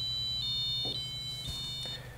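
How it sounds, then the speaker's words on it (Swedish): A micro:bit buzzer alarm, set off when a laser beam is broken, sounds in a series of high pulsing beeps, loud and close, with faint clicks and knocks beneath it and no talking. "nu när jag bryter laserstrålen, så då kommer summen och blåljuset igång"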